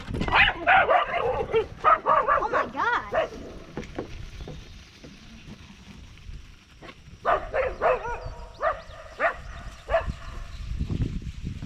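Several dogs bark in quick bursts, close by, with yips mixed in, then a pause and another round of barking; a voice exclaims briefly.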